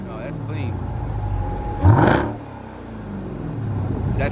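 A 2018 Jeep Trackhawk SRT engine gives a short rev that swells to a loud roar near the middle, over steady idle rumble and passing outdoor noise.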